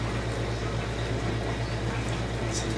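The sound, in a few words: pouring vegetable juice into a blender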